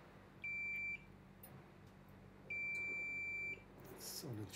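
Multimeter in diode mode beeping on a short circuit at the VDD boost line of an iPhone 7, two clear electronic tones, the second longer, over quiet room noise.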